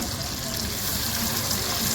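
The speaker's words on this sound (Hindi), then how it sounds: "अभी हम क्या करेंगे कि इसमें पानी ऐड करते हैं" Water pours into a pot of Gulbarga-style mutton tahari, a steady rushing gush that fills the whole moment at close range with no pause.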